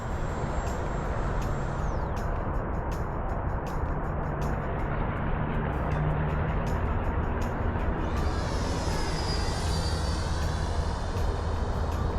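Continuous roaring whine of an FMS Rafale 80mm electric ducted fan RC jet, its pitch shifting as the throttle is worked up and down, steady and fairly loud throughout.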